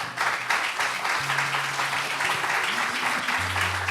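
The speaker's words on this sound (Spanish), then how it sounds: "Denle un aplauso al Señor." A church congregation claps during a Spanish-language service, brisk applause mixed with sustained low organ or keyboard tones and scattered voices.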